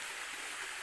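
Stream water flows along a campsite trail in a brief, steady hiss of rushing water, soft and continuous with no voices.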